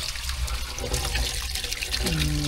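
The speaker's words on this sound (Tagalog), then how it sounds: "Tingnan natin yung agos. Ayun oh, may agos na rin." Water gushes steadily through a newly laid pipe at an outdoor drainage job where the pipe will be covered with soil, a continuous close rushing and splashing flow.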